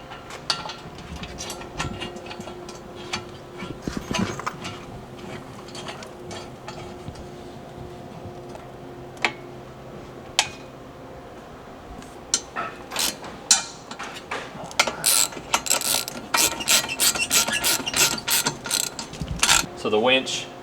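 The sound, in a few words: fastening winch mounting plate hardware with a ratchet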